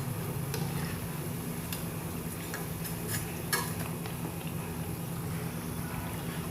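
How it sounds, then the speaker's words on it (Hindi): Bread slices deep frying in hot oil in a kadhai for shahi tukda make a steady, moderate bubbling crackle, with a few faint clicks over it and no voices. "हमने इनको हाई फ्लेम पे ही फ्राई करना है, वरना ये तेल पी जाएंगे।"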